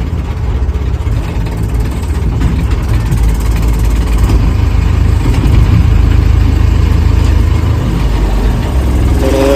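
A JCB backhoe loader's diesel engine idles steadily, a loud, continuous low rumble close by with no speech, its tone rising slightly near the end.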